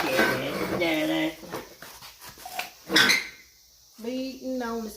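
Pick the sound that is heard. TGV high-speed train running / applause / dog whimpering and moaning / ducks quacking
dog whimpering and moaning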